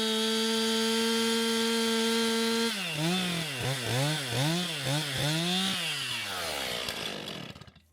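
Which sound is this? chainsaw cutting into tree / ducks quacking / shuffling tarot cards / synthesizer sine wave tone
chainsaw cutting into tree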